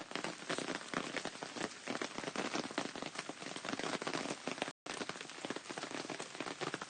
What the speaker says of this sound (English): We're not going to let the rain spoil our good time.